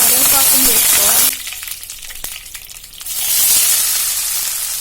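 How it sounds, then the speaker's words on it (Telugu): Cumin seeds and curry leaves hit hot oil with a loud, close, hissing sizzle that drops off briefly mid-way as they are stirred, then surges back to full crackle. "దీనిలో ఒక 1/2 స్పూన్ జీలకర్రను కూడా వేసి ఫ్రై చేసుకోవాలి. ఇప్పుడు కొద్దిగా కరివేపాకును వేసుకోవాలి."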